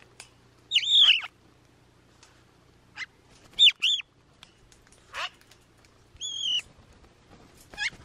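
Outdoor crows and magpies waiting for mealworms give several short, separate calls and chirps, some sharp and close, spaced out over quiet background.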